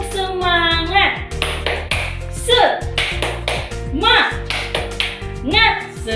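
A class of children claps out a rhythmic cheer clap in bursts, sharp hand claps in a patterned beat mixed with chanting young voices and a teacher's voice.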